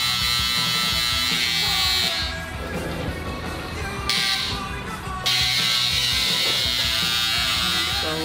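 A tattoo machine in a tattoo shop gives a loud, continuous electric buzz throughout, dipping briefly in tone partway through before resuming at full strength.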